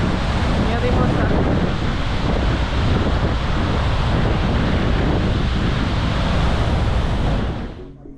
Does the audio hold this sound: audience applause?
no